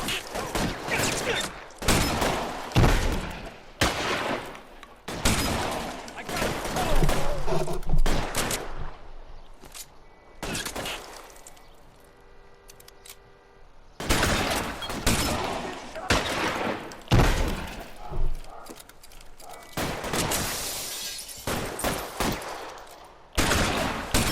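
Gunfire in L.A. Noire, with dense bursts of rapid shots and fusillades in long volleys, a lull of quieter sound midway, then heavy firing again, loud and close, with a voice speaking at times.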